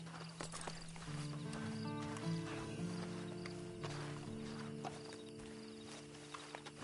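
Horse hooves clip-clop steadily at a walking pace in Red Dead Redemption 2, mid-distance, over a bed of sustained musical tones with a brief whinny-like sound.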